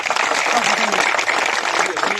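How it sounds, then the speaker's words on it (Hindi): Protesters at a sit-in demonstration at a tehsil compound applaud loudly, dense clapping filling the short stretch with voices mixed in among the crowd. "उसके लिए उनके लिए जोरदार तालियां"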